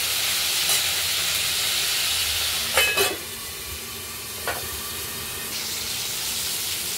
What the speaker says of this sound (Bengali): ফুলকপিটা ভাজা হচ্ছে, এটাকে আমরা খুব সুন্দর করে হালকা লাল করে ভেজে নেব